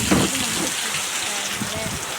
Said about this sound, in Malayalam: അപ്പോൾ നല്ല മഴയുണ്ട്.